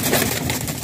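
A pet pigeon coos softly and steadily at a pigeon sale in Bahawalpur, a brief low murmur with no voices over it.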